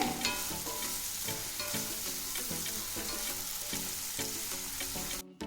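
Onions fry and brown in a pan with a constant loud sizzle, broken by rhythmic scraping as they are stirred, with no voices.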